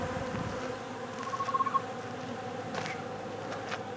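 Honey bees buzz around an open feeder holding pollen in plastic storage tubs, a faint steady hum with a brief louder pass of a nearby bee.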